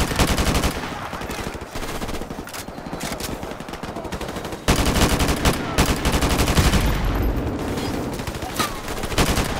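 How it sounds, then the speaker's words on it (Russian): Kalashnikov rifle fire in Call of Duty: Modern Warfare Remastered, dense loud automatic bursts repeating for nearly ten seconds with a brief pause midway, mixed with other battle noise and some voices. "Калаш, по идее, он должен пробивать эти стены спокойно"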